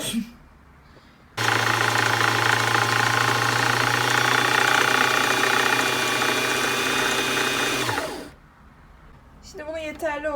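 A Singer Tradition 2259 sewing machine winds a bobbin with the foot pedal pressed, giving a loud, steady motor whir with a low hum that starts abruptly, runs for several seconds and then stops, followed by talking.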